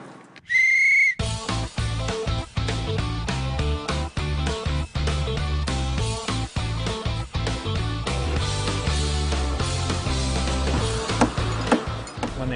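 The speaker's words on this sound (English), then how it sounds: "When they blew the whistle" A single sharp whistle blast rings out briefly, then loud upbeat music with a strong beat takes over.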